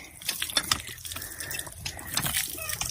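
Clean natural spring water flows and drips close by, a bright splashing trickle with small drops, outdoors, with no talk over it.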